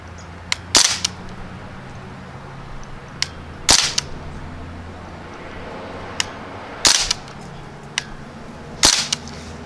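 Crosman Panther Arms DPMS BB rifle fired on semi-auto at a target outdoors: four sharp cracking shots spaced a few seconds apart, each followed by a faint distant impact tick, with quiet ambient hiss between.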